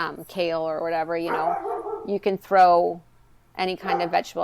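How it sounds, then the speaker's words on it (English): A pet dog barks repeatedly in a home setting, sharp yips and bow-wows rising over someone speaking about vegetables, the barking loud and close, nearly drowning the talk in bursts. "You hear my dog barking in the background."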